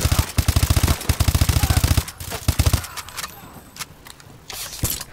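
Rapid automatic gunfire in the video game Call of Duty Advanced Warfare, loud bursts of fast rhythmic shots for about two seconds, a few more shots, then quieter game noise with scattered pops.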